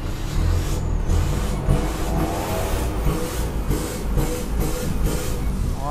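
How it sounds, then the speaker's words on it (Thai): A 2020 Isuzu D-Max Cab 1.9 with a modified exhaust idles with a steady, loud, deep rumble and pulsing exhaust throb, close by and without talk. "เดี๋ยวผมขออนุญาตสตาร์ทเครื่องหน่อยนะให้ฟังเสียงท่อหน่อยครับ"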